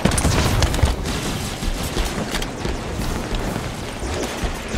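Rapid automatic gunfire and booming impacts in a Halo multiplayer skirmish, continuous dense bursts up close with explosions mixed in.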